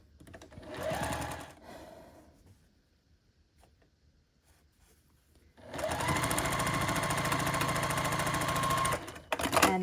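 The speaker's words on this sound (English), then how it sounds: "And then you sew these together." A sewing machine runs in two bursts, a shorter one and then a long steady stretch of fast rhythmic stitching, as quilt blocks for a pinwheel pattern are sewn together, with a brief quiet pause between.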